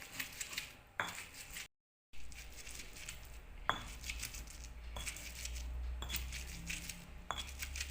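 Green chillies and garlic being coarsely pounded give sharp, faint knocks roughly once a second, with a brief silent gap and a low background hum.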